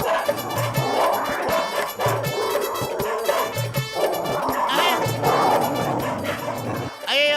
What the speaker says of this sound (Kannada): ಇದೇನೋ ನಾಯಿಗಳೆಲ್ಲ ಹಿಂಗ ಹೊಡ್ಕೊಂಡ್ ಬರ್ತಾ ಇದಾವೆ